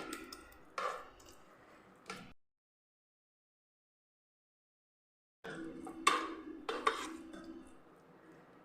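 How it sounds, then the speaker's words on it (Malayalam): A ladle scrapes and presses a flattened rice (aval) snack mixture level in a pan, giving a few close clinking, scraping strokes, then a silent pause before more scraping and taps resume. "ഇതേപോലെ ഒരു തവി വെച്ച് നമുക്കൊന്ന് ലെവലാക്കി കൊടുക്കാം"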